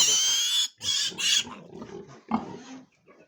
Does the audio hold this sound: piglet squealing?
yes